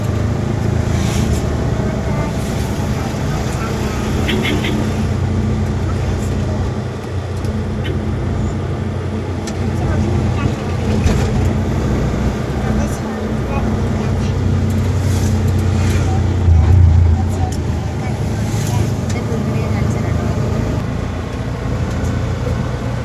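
Ride inside an auto rickshaw on the road, with a continuous engine drone and rumbling traffic noise close around, holding steady throughout with small swells and passing vehicle sounds.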